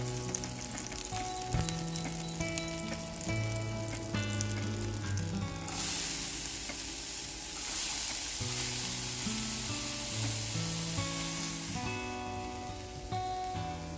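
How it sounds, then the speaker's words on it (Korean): Onions fry in melted butter in a pan, a steady bright sizzle that swells louder partway through and stays continuous under background music. "버터를 녹이고 양파를 볶아줍니다."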